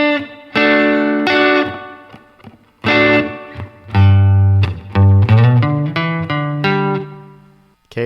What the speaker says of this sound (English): Then we got the next lick,